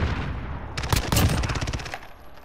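Rapid automatic gunfire bursts in a Call of Duty: Modern Warfare match, a dense rattling volley starting partway in and running for over a second before tapering, loud and close.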